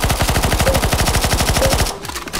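Rapid, steady automatic gunfire in CS:GO Zombies, a fast rattling burst of shots fired at a boss, loud and continuous for about two seconds before cutting off.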